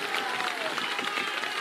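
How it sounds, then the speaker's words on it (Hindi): A crowd at a political rally claps steadily, a dense continuous applause filling the space with some voices mixed in. "अब बजा लो ताली जितना बजाना है।"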